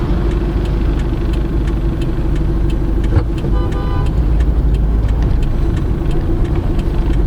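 A 2017 Isuzu MU-X 3.0 LS-A 4x2 automatic SUV idles and creeps through a tight U-turn, its engine a steady mid-range drone with road rumble, heard from inside the cabin with no talking.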